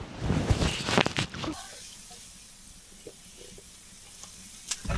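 A burst of crackling and hissing as food hits a hot frying pan at a cold, wet snow campsite in Australia, then a softer, steady sizzle with occasional pops.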